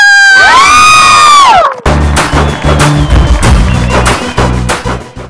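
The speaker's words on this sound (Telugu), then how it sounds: "గట్టిగా క్లాప్ ఒకసారి" A studio game-show audience bursts into loud cheering and shouting after a whistling horn-like tone, with rhythmic claps and whoops carrying on as a dense, close crowd roar.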